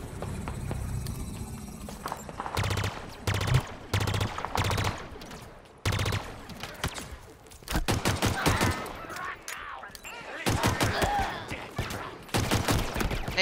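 Gunfire in Halo Infinite comes as rapid bursts of loud automatic shots in repeated volleys, with brief pauses between strings of fire.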